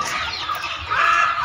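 Country free-range hens on a village farm cluck briefly, a short burst of close, moderately loud calls that rise toward the end.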